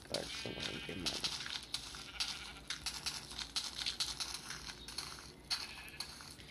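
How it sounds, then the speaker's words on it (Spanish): Sheep bleat repeatedly in Minecraft Pocket Edition, several overlapping game bleats in quick succession, loud and close, alongside someone speaking Spanish over them. "Muchas ovejas"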